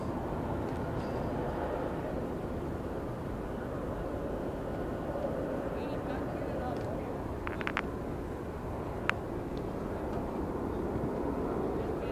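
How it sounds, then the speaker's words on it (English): A plane passing over a boys' varsity soccer game, a continuous broad roar filling the whole stretch, with voices faintly underneath. "Got the plane coming in there if you could barely hear us there."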